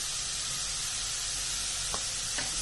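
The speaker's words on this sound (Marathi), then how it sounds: "आणि व्यवस्थित परतून घेते मसाले, खोबरं, शेंगा सर्व" Spices, grated coconut and beans sauté in a pan with a dense, steady sizzle and a couple of light stirring taps near the end, heard close and continuous.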